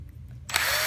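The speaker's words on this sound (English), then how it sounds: "We're going to go to the 1/64 drill bit now." A power drill fitted with a tiny 1/64 bit spins up halfway through, giving a steady high whine while drilling out a post on a Hot Wheels toy car.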